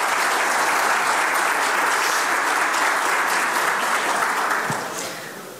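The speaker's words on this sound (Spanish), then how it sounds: "Otro aplauso." Sustained applause from an audience at a breakfast conference with regional clients, steady and full for about five seconds before gradually tapering off, with no talking over it.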